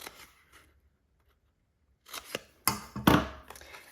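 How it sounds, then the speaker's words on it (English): Scissors cut scored paper for a bunny treat craft in a few short crisp snips and rustles, close and clear, after a quiet pause. "I'm going to take my scissors, and I'm just going to cut up onto the scored lines just to make a tab"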